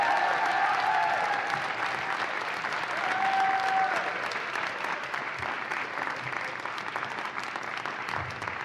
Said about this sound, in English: Please join us in one more round of applause for everybody that's up here.